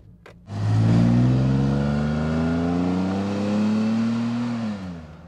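A high-mileage Lancia Kappa Coupé with its Busso engine pulls away after a brief click, the engine note rising steadily under load for several seconds, then easing off near the end, close and loud with no talking.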